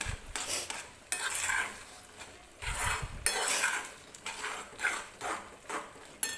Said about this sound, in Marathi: तर साखर टाकल्यानंतर सुद्धा आपल्याला व्यवस्थित सगळं मिक्स करून घ्यायचं आहे.